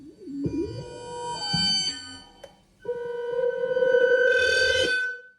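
A Eurorack modular synthesizer soundscape with warbling, gliding tones gives way to a sustained bright drone laced with shimmering noise, moody and cinematic.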